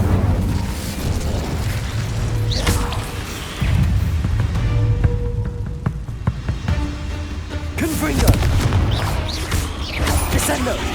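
Repeated fiery spell blasts in a cave battle from the video game Hogwarts Legacy, heavy booming whooshes and bursts rising and falling over several seconds, mixed with combat clatter and brief grunts.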